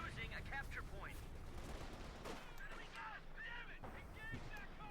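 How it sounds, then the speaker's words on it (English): Dense machine gun fire and scattered gunshots from a Company of Heroes 2 battle fill a busy wartime soundscape, continuous and fairly loud, with a commentator's voice mixed in. "a lot of machine gun fire there"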